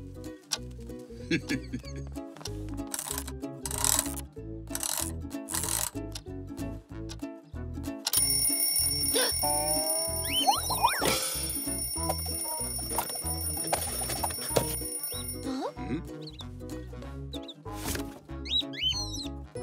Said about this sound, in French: Voici mon vieux réveil. Et il marche encore.